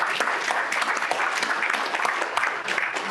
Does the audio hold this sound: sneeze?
no